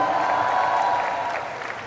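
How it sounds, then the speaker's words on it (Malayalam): Brief burst of audience applause at a film trailer launch event, a dense crowd clapping that fades slightly toward the end. "ആ കുട്ടിക്ക് ഒരു വലിയ കൈയടി മേളം കൊടുത്ത എല്ലാവരും കമാൻ."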